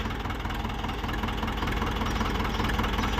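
Ford 6610 farm tractor in good running condition idling steadily, a close, continuous low diesel rumble with an even rhythmic chug and no talk.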